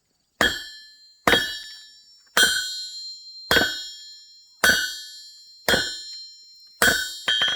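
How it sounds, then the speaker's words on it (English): A blacksmith hammers hot steel on an anvil, forging down the tip of a blade into a point: seven sharp, ringing metallic strikes at an even, unhurried pace, each leaving a bright ringing decay, close and without talk. "I'll start out by forging down the tip to get that basic point in"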